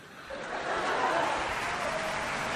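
Audience clapping and laughing after a stand-up comedy set at a Navy Diwali Mela live event at MDL Karanja, Uran, a broad wash of applause that swells early and holds steady for a few seconds.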